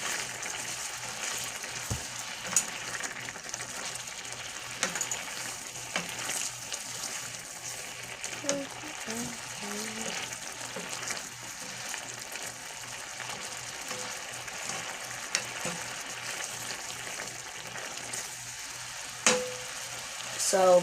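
Meat sizzling in a pan for bell pepper spaghetti, a faint steady hiss with occasional scrapes and clinks of stirring, quiet and close-up.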